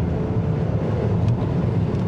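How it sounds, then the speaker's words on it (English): A 2024 Lincoln Nautilus Black Label hybrid luxury SUV accelerates hard from a standstill up a slight uphill grade, its low engine drone steady and close, mixed with road and wind noise inside the cabin and no talk. "Let's go ahead and see what we can get 0-60 wise in this car."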